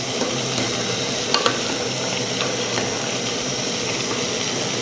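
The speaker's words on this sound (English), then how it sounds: "We'll give this a quick mix." Lentil stew gets a quick stir in a pot, a steady broadband simmering hiss with a few faint scraping knocks of the spoon near the middle, close and even, no voices.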